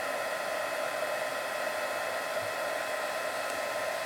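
A heat embossing tool blows hot air in a continuous, steady whirring hiss, moderately quiet and unbroken throughout, with no talking.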